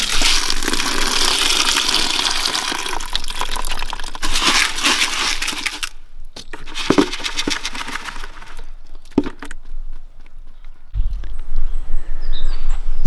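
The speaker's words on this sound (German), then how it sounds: "werde ich den jetzt erstmal einen Tag lang aufquellen lassen mit Wasser" Water pours and gushes over wheat grain set to soak for sprouting, a steady broadband rush for several seconds that breaks into shorter splashes and trickles, with a low thump near the end.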